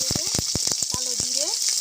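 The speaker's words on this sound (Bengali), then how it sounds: "এই তেলে দিয়ে দিচ্ছি আমি 3টে কাঁচা লঙ্কা" Three green chillies sizzle in hot oil for a red amaranth stir-fry, a bright, steady hiss close up, while a voice talks over it.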